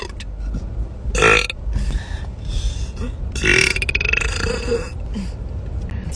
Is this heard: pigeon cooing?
no